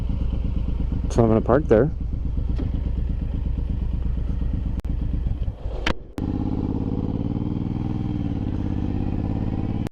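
A Yamaha M109R motorcycle engine rumbles close and loud while a rider speaks briefly over it, followed by clunks and a drop to a steadier low idle as the bike is parked.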